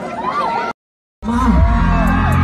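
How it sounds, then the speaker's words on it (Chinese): A concert crowd at a university welcome show for a guest singer screams, whoops and cheers loudly, then the sound cuts out to a moment of silence before the roaring cheers and shouts resume. "尖叫声，掌声借给我们"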